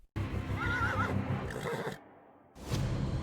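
A horse whinnies loudly near the start in a dramatic narrated scene about the White Horseman, a rising-and-falling neigh over a dense, rumbling bed of sound that drops away briefly before a loud burst returns at the end.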